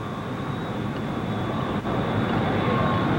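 A steady jet engine roar with a constant whine from a high-altitude spy plane, loud and unbroken except for a brief dropout partway through.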